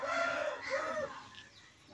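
A rooster among a group of five fighting cocks calls nearby in one short, strained crow that fades out after about a second and a half.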